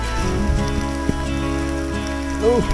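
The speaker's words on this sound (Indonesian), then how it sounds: "Dan akhirnya kita kena hujan." Fairly heavy rain falls on a mountain trail, a steady close patter and hiss running throughout beneath a constant humming tonal drone.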